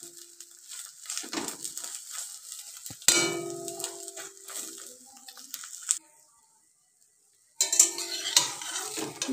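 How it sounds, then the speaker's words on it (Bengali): Egg frying in a pan for crunchy egg fingers sizzles steadily while a metal spatula scrapes and clanks against the pan as the egg is flipped, with a brief silent gap before the frying sound returns. "এবার আমি খুন্তি দিয়ে অন্যদিকে উল্টে নিলাম। এদিকটাও একটু ভালো করে ভেজে নিতে হবে।"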